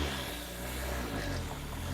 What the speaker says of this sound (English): You can see I'm idling at like 1800 RPM, like I'm cruising on the highway.